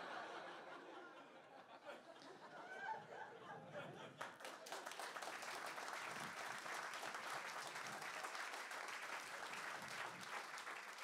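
Theatre audience at a comedy evening breaking into sustained applause with scattered chuckles, building after a few seconds into a dense, steady wash of clapping that fills the hall.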